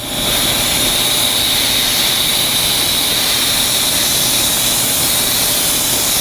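Steady, loud rush of compressed air from a blow gun drying a photolithography sample held in tongs, a continuous broadband hiss running unbroken throughout with no voices.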